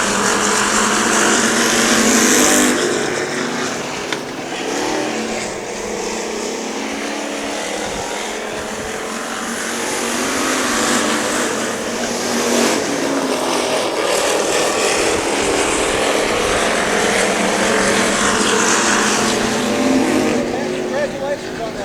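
Race cars roar around the dirt oval at Heart O Texas Speedway, a continuous loud engine drone that swells as cars pass, under a commentator's steady talk.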